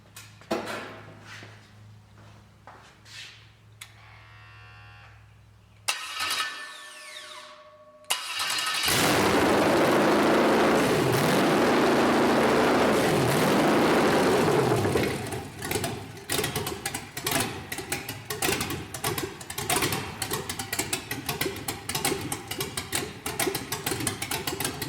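A 5.3L LS truck engine run on a MegaSquirt 2 with idle air control cranks, catches, and settles into a loud, steady idle with some rough fluctuation.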